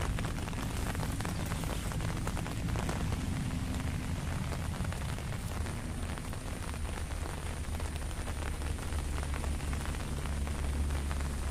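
Heavy rain falls steadily at a roadside fishing pond, a dense, unbroken hiss of drops pattering on surfaces that stays loud and even throughout.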